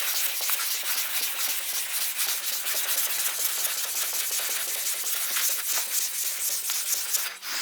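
Steady, continuous abrasive rubbing of a sanding block over a 1956 Chrysler 300 body panel, close and fairly loud, with even back-and-forth strokes throughout and no talking.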